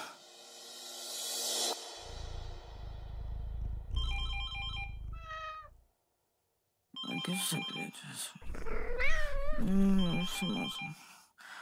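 A landline telephone rings in bursts of electronic tones, separated by a short silence, while a cat meows near the end.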